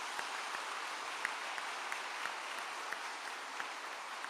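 A church congregation applauds during a Catholic sermon, producing a steady, fairly soft wash of many hands clapping with scattered sharper claps, carrying on evenly without talk.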